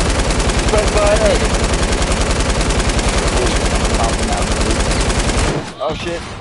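Rapid, continuous light machine gun fire from a Minecraft-style video game rattles loudly for about five seconds in a steady stream, then cuts off abruptly, leaving faint background game noise with a hint of voice.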